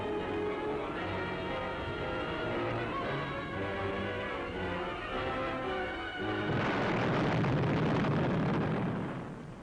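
Bombing and shell fire in a World War II city battle, heavy rumbling explosions with a dense roar that swells loudly toward the end, under a droning background, with no voices.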